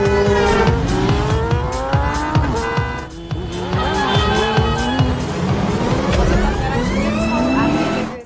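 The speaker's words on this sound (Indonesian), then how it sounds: "Kang Hun memacu mobil dengan sangat kencang" A car speeds hard through the night toward a motorcycle gang it means to ram: a loud, continuous engine roar with climbing, shifting revs and squealing tires throughout, close and dense.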